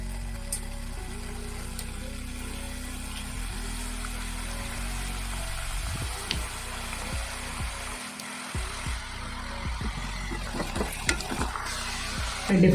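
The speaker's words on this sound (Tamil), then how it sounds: "எண்ணெய் நல்லா சூடாயிடுச்சு, நான் போட்டு எடுக்க வேண்டியதான்," Badusha dough frying in well-heated oil, a soft continuous sizzle with occasional stirring clicks and scrapes, close and fairly quiet, with no voices.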